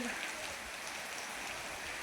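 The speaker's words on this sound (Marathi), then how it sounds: "दमानी फास्ट नाही हळूहळू पाऊस आलेला आहे" Steady rain hisses evenly over a farm field, a dense, unbroken wash of falling water with no pauses.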